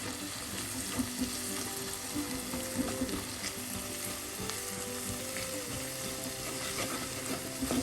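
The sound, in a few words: stirring turmeric and spices in frying oil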